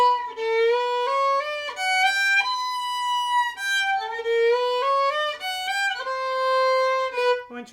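Second-violin part of the Waltz from Sleeping Beauty played slowly, with bright sustained bowed notes moving stepwise in a steady lilting phrase, close and clear with no talking.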